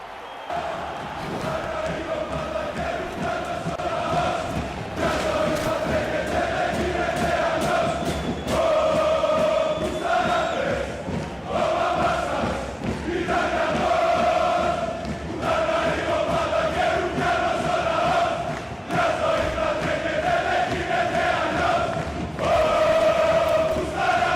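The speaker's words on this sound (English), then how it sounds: "They're definitely having a good cheer." Undead supporters in the fantasy football game Blood Bowl cheer and chant as a steady, roaring stadium crowd, a dense continuous wall of voices with rhythmic swells throughout.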